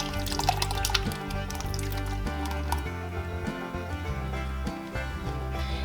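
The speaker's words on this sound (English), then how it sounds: "In goes the homemade juice." Homemade juice pours into a pot of spaghetti sauce, with a steady liquid stream, splashing and small drips, close and fairly quiet, no talking.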